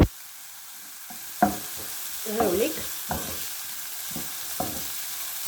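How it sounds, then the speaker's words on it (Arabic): Onions frying in a pan for a potato and minced-meat tortilla: a steady low sizzle with scattered scrapes and clacks of a utensil stirring, close and moderately loud, with no talking. "نقلو شويه البصل تاعنا كما راني نقول لكم"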